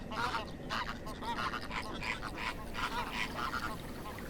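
A large flamingo colony at Lake Tuz calling together, honking, goose-like cries overlapping continuously at a moderate distance.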